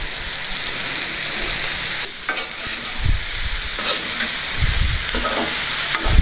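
Peanuts fry in hot oil in a pan for a mint cabbage curry, with a steady close sizzle and repeated scraping stirs of a spoon across the pan.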